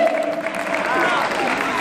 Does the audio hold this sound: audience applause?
yes